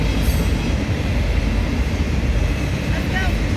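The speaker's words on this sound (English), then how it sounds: "The train's not passed yet. I gotta catch it before it goes." A Norfolk Southern autorack freight train rolls past close by, a loud continuous rumble of rail cars with a faint wheel squeal near the end.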